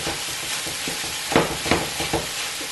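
Ground pork sizzles steadily in a pan for century egg rice porridge, with a few louder scraping stirs of the spatula breaking up the meat over the constant frying hiss.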